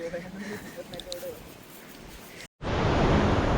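A waterfall near a village in Kahir, Maharashtra: after a brief cut, loud, steady rushing water roars up close, preceded by quieter outdoor noise with voices talking.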